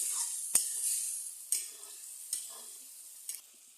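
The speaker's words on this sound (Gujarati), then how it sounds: "ઢોકળી નાખી દેવાની જો આમાં વઘારમાં એને હલાવી નાખવી" Dhokli sizzles softly in hot tempering oil with tomato while a spoon stirs and scrapes the pan a few times, with sharp clinks spaced about a second apart.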